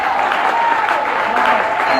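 A church congregation applauds with steady, loud, continuous clapping, a sustained dense wash of hands with a faint sung or spoken tone running under it.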